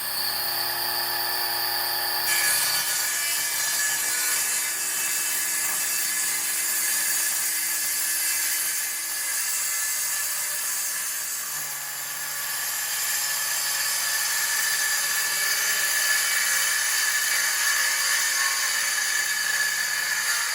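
A Hyper Tough 20V MAX lithium-ion cordless 6-1/2 inch circular saw cuts through wood with a loud, close, steady high-pitched whine that runs the whole time, its tone shifting slightly partway through.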